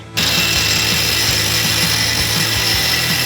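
Power tool cutting a round piece from a metal pipe, a steady loud grinding whine that runs continuously from start to end with faint rhythmic low thumps beneath.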